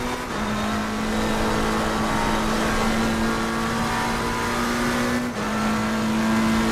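Race car engine in Assetto Corsa Competizione droning at steady high revs while slipstreaming another car down a straight, loud and continuous with a brief dip near the end, no talking.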